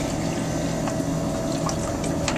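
Sugar water pours steadily onto crushed berries in a container, a continuous close liquid splash and trickle with a few brief drips near the end, heard alone.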